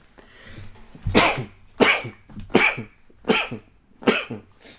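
Five sharp, explosive sneezes spaced about a second apart, each loud and close, with no talking.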